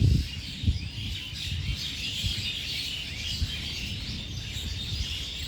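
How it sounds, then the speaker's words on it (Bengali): Many birds chirping and calling around a resort at dusk, a dense chorus of busy chirps and squawks, moderately distant, continuous with no talk. "আপনারা পাখির আওয়াজটা শুনতে পাচ্ছেন।"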